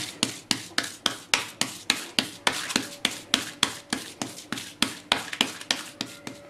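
A wet hand pats and presses makki puri dough flat on a sheet of polythene, giving a steady rhythm of about twenty soft slaps with a brushing rub after each, close and without talk.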